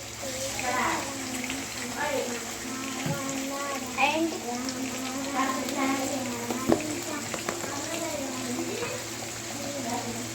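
Washed greens are dropped into hot oil in a frying pan and sizzle softly, with a wet hissing and popping beneath someone speaking.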